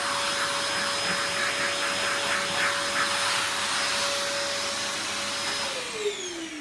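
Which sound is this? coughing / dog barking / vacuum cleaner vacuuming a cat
vacuum cleaner vacuuming a cat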